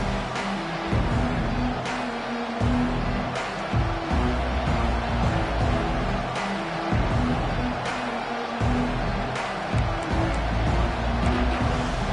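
At kickoff of an LSU college football game, a packed stadium crowd sends up a sustained roar that stays loud and even the whole time, with occasional sharp swells.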